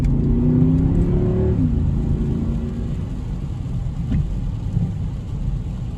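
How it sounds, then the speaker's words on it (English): A Mercedes ML63 AMG engine with a custom air intake revs up close, its deep growl and intake noise rising and falling with sharp throttle blips over a steady rumbling idle. "So definitely some nice throttle noise coming from the intake side of things."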